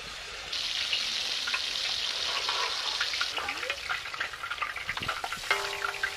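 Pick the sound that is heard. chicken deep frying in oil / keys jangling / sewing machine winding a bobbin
chicken deep frying in oil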